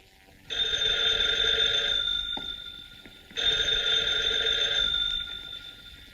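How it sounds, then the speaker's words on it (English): An old-fashioned electromechanical telephone bell in a 1940s serial rings in two long, loud bursts with a short pause between them, with no talk over it. "I just received a mysterious phone call about Uncle Martin"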